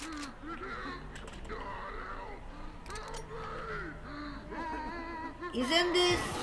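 Half-Life headcrab zombie sound played in reverse inside a Doom-style shooter, a warbling, croaking moan of rising and falling groans that repeats several times over clicking game noise, ending in a louder shriek.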